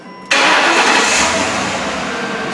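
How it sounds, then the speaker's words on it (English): A car engine cranks and catches abruptly after a short quiet moment, then settles into a steady, close idle. "Start the car up."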